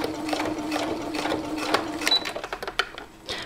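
Sewing machine stitching fabric for a small wolf-shaped coin purse bracelet, a rapid run of mechanical stitch clatter that breaks into short uneven bursts toward the end, close and fairly quiet.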